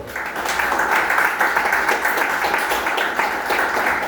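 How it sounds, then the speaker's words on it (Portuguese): A church congregation at an Assembleia de Deus service applauds the Lord, a steady, dense wash of clapping that holds evenly for several seconds without a break. "Você pode aplaudir o Senhor?"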